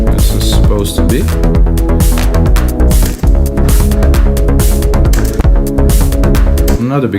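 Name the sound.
clap sample in an electronic trance beat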